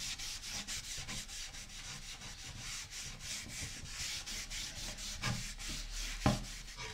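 Cloth rubbing wax directly onto a wooden key holder, a steady back-and-forth scrubbing with regular strokes, close and fairly quiet, with a couple of light knocks near the end.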